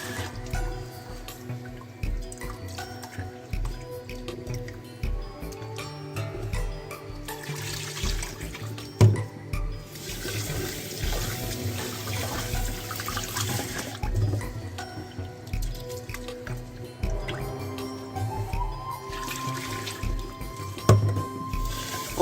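Tap water running into a kitchen sink while food is rinsed, a steady trickle and splash with clinks of a bowl and dripping, close by, no talking.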